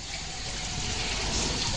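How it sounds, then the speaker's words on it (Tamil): Filtered rainwater runs steadily out of a pipe in a constant close rushing trickle, with no voices over it. "ஃபில்டர் ஆகிட்டு வர தண்ணி இந்த வழியாக வரும்."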